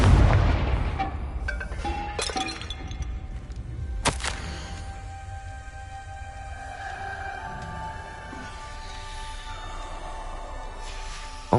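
A Confringo explosion spell in Hogwarts Legacy bursts with a sharp loud boom at the start and another blast a few seconds later, its rumble trailing off under lingering game ambience.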